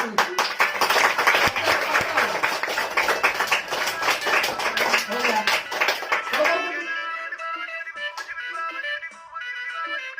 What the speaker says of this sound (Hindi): आप लोग ताली मारता है